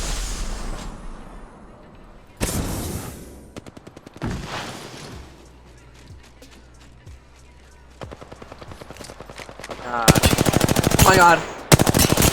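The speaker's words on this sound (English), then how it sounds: "I'm getting shot by 4 different kids." Apex Legends video game gunfire: bursts of rapid automatic fire and single shots, loud and close, growing into heavy sustained volleys near the end, with a player's voice exclaiming between them.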